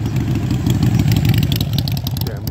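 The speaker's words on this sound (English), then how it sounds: "damn loud motorcycles" Loud motorcycle engines rumble nearby in a continuous, throbbing roar that fills the whole stretch without letup.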